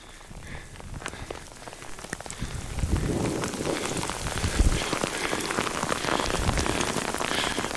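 Steady rain falls and patters on surfaces at the Billy Goat Bluff off-road track, growing heavier after a few seconds into a dense, continuous shower.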